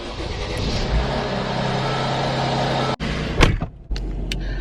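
Inside a new Mercedes car, a steady road and engine rumble fills the cabin, then a sharp click is followed by the whir of a power window and further brief mechanical sounds.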